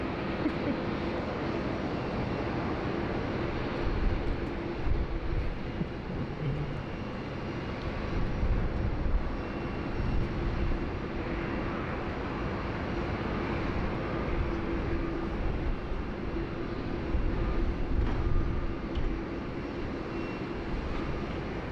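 An Etihad airliner departs Sydney Airport, its engines making a continuous broad, moderately distant roar that holds steady for over twenty seconds with slight surges.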